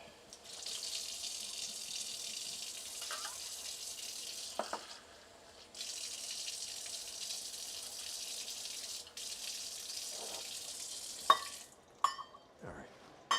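Water runs steadily from a kitchen tap into a vessel for pepper tea, a continuous hiss broken by brief pauses and a few clinks and handling knocks near the end, fairly quiet overall with no speech.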